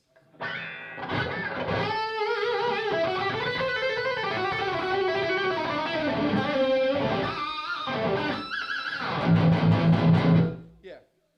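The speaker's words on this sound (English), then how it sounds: "can you still shred on it like a normal guitar?" Fast shredding on a Chapman baritone electric guitar played through heavy distortion at a live guitar clinic, a dense run of quick melodic notes with bends, ending on sustained chords that cut off sharply.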